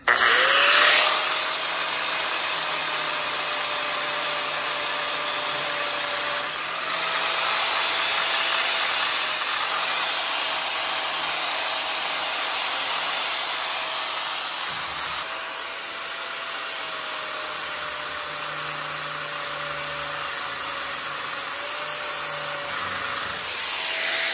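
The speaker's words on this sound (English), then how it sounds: "Actually, I'm gonna go to this grinder for a second. Hopefully I don't throw sparks at you guys." A grinder runs continuously in a woodworking shop, producing a sustained whining hiss with a steady tone, its pitch dipping slightly a few times as it loads, loud and close with no talking.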